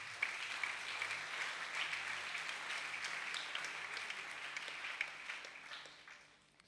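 Church congregation applauding the Lord, a steady dense wash of clapping that holds strong for several seconds before thinning and fading out toward the end.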